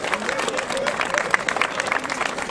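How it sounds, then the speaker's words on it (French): A crowd at a cycling race podium ceremony in Isbergues applauds the winner, with steady massed clapping under an announcer's amplified voice. "allez, vous l'applaudissez encore, Sulzberger."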